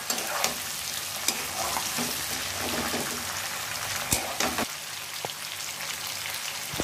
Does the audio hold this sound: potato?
yes